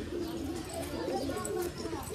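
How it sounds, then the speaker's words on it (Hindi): Original Jakshin-breed pigeon cooing in a low, steady murmur among a flock of high-flying pigeons, partly under close conversation. "ये जक्षिण कबूतर है, ओरिजिनल जक्षिण।"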